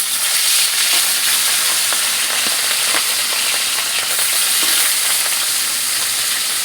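Katla fish sizzles in hot mustard oil in a wok with a steady, loud, dense crackle and spatter that never lets up. No voices are heard.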